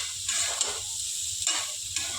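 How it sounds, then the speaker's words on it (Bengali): Meat seasoned with black pepper fries in a pan, the bright sizzle swelling in a few short bursts as it is stirred, close and with no talking. "এবারে এগুলো সব ভাজা ভাজা হবে।"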